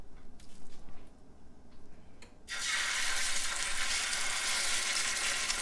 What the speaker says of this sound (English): now if your chicken doesn't sizzle like that